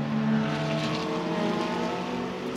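Lamborghini GT race cars, a Huracan Super Trofeo and an older Gallardo, roar past at Spa during a Blancpain GT Sports Club race, a loud engine howl sweeping by and fading slightly, with no talk.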